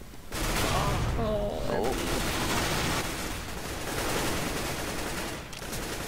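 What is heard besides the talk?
gunfire in a video game, Desert Eagle and P90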